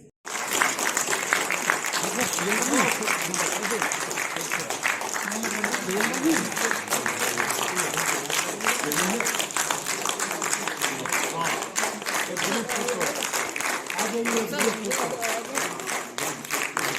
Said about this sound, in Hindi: एक और शानदार तालियां।